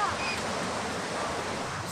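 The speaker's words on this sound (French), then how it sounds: "En plus, les vagues sont énormes." Large ocean waves break at a busy beach with swimmers and surfers, a steady broadband roar of surf and wind filling the scene without pause.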